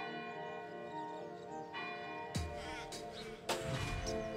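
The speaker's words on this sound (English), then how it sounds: "the only thing louder than the galahs are the church bells." Church bells ring out, with two sharp, loud strikes ringing over a steady hum of background sound.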